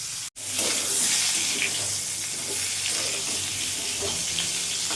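Pointed gourd (potol) pieces frying in hot oil for a vegetarian potol and soya curry, a continuous loud hissing sizzle that starts after a brief dropout, with faint scrapes of stirring.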